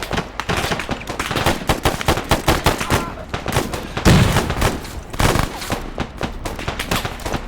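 Rifle gunfire in a first-person shooter video game, loud rapid bursts of shots mixed with other weapons firing, a dense continuous exchange of fire with no clear talk.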